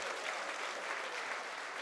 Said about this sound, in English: I beg please round of applause for FunnyBone.